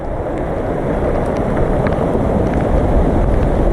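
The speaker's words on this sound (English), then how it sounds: "we've definitely been having tropical storm force winds" Tropical storm force wind from Hurricane Ian roars outdoors, loud and continuous, buffeting the microphone with a dense, rushing noise that swells slightly over a few seconds.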